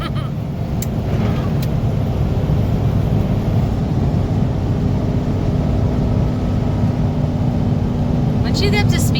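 Car with a turbocharged EFI Ford 460 engine cruising at speed, a loud steady low rumble and road drone from inside the cabin with wind noise, continuous throughout.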